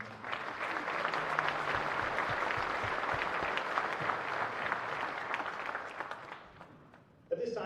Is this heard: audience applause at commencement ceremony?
yes